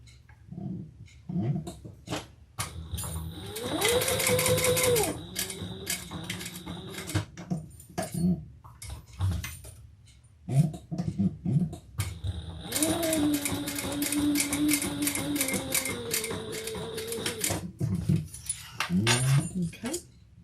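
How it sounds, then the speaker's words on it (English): A sewing machine runs in two sustained bursts, stitching two rows along the seam of a leather messenger bag, with brief pauses and a few handling clicks between the runs. "we're just going to do 2 rows of stitches."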